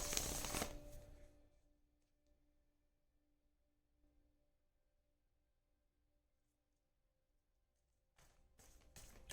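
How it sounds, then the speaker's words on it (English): Tarot cards are shuffled by hand in a quiet room, a brisk riffle at the start, then near silence with a faint hum, and a few quick crisp card flicks and taps near the end. "One more shuffle here."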